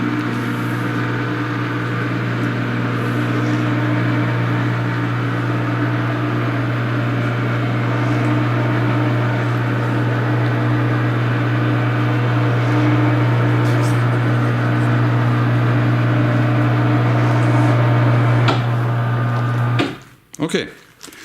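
Auxx-Lift attic lift motors drone steadily as the platform rises, a constant mechanical hum with a low tonal whine that runs for about twenty seconds, then cuts off abruptly, followed by a few brief knocks.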